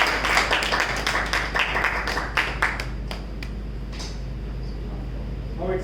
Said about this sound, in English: all of them deserve a big round of applause